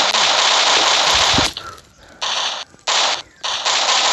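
Gunfire or firecrackers going off: dense bursts of crackling pops in loud clustered volleys, separated by brief near-silent gaps, with no voices.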